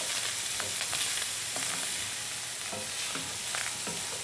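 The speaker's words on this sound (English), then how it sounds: "There, it's getting nice and brown now." Italian sausage with garlic and crushed pepper flakes fries in a pan, with a loud, steady sizzle and repeated scraping strokes of a stirring utensil close by, with no talk.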